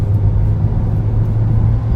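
A Skoda Slavia sedan under full throttle gives a steady, loud low engine drone with road rumble from inside the cabin, holding constant for two seconds with no talk.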